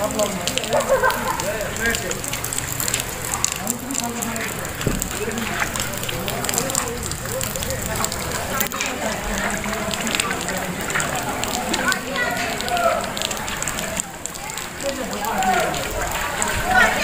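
Heavy monsoon rain and floodwater flowing through a waterlogged village, a steady dense rushing hiss that lasts throughout, with voices talking over it.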